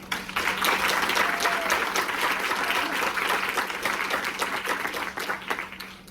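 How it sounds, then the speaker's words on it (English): A lecture audience breaks into a warm round of applause, a dense, steady wash of many hands clapping at moderate loudness that swells early and slowly thins toward the end, with a faint low hum beneath. "please give a warm round of applause to Dr."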